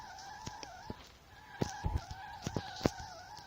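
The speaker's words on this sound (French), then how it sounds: "j'avais essayé de me concentrer et faire un beau drift" Video game car drifting with looping engine tones and a sustained tire screech, scattered sharper skid bursts and thumps over about three seconds, fairly quiet and with no talk.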